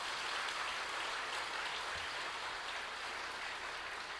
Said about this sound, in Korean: 막 박수를 치는 거예요.